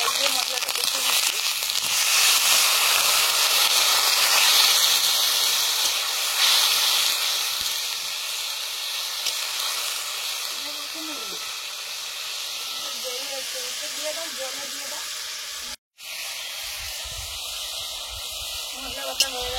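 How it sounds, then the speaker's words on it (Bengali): Spice paste of turmeric and red chili powder with water sizzles and hisses steadily in a pan, a loud close frying noise throughout, with a brief cut near the end and faint clinks. "জল দিয়ে মশলাটা কষিয়ে নিচ্ছি"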